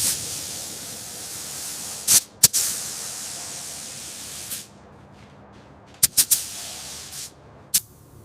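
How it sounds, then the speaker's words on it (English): Short, sharp hissing bursts from a spray gun laying primer on a 1987 Toyota Land Cruiser under restoration, a few spaced blasts over a steady background hiss, with no talking. "The primer is mixed to the correct ratio and loaded into the spray gun."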